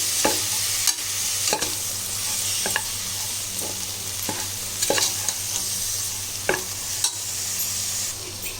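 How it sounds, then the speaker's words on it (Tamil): Five kinds of chopped vegetables sautéing in oil for sambar rice, a loud continuous sizzle with a low hum and a spatula knocking and scraping the pan every second or so, no voices. "இது எல்லாத்தையும் நம்ம நல்லா வதக்கிக்கலாம்"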